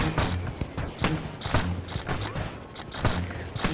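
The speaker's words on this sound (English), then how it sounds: "These buttons trigger the cannons and some of the spike traps." Cannons fire in the video game Yeeps as a rapid series of sharp bangs and thuds, dense and fairly loud, with mechanical clatter between the shots.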